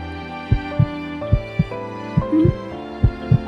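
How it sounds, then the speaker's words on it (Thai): Heartbeat sound effect from The Sims 4 plays alone: paired low thumps repeat at a steady, slightly quickened rhythm over a soft background hum of game music. "นี่มัน เสียงหัวใจของเคเหรอ เขาก็ใจเต้นแรงเหมือนกันเหรอเนี่ย"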